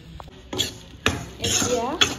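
Carrot halwa is stirred and fried in a pan, with a metal utensil scraping and clinking against it. Several short, close scrapes come in quick bursts.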